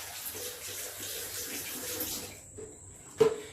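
A tap runs water onto a grout brush in a bathroom shower-cleaning setting, a soft steady splash that thins out before a short sharp spatter near the end.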